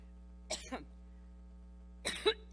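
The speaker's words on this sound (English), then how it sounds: "there was this video that came out of her coughing and just coughing and coughing" Two separate bursts of coughing, fairly close, with a short hacking cough followed by a rougher throat-clearing cough after a pause, over a steady low hum.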